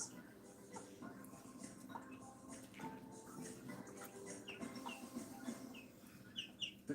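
An Ayam Cemani hen clucks softly and steadily to her chicks, while the chicks' thin, high peeps scatter over the top against a dense, busy background.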